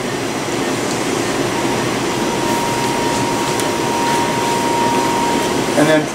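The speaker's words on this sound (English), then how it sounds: "we're just pressurizing so we can get the cement into the gun" Bone cement, a polymer mixed with antibiotic for an antibiotic rod, is pressurized into a cement gun, producing a steady, loud, continuous whooshing hiss with a brief clatter at the very end.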